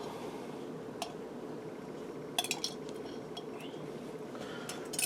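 Faint clinks and taps of a utensil against a glass jar as the last jalapeños are scraped out, a few sharp metallic ticks scattered over a quiet kitchen background with soft squishy sounds.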